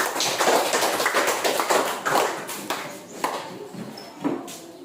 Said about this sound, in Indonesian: tepuk tangan untuk teman saya